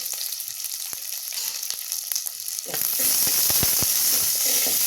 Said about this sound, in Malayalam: അത് കഴിഞ്ഞിട്ട് നമ്മൾ അരിഞ്ഞ് വെച്ചിരിക്കുന്ന ഉള്ളി ഇട്ട് കൊടുക്കണം